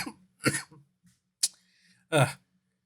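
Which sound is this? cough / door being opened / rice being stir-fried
cough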